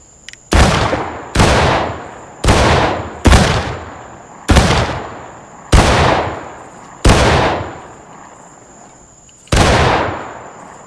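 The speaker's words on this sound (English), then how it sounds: "So, all right, company, prepare to fire by file." Musket shots in the Civil War game War of Rights, fired by file down a company line, ring out as eight sharp, loud separate cracks with fading echoes, spaced about a second apart.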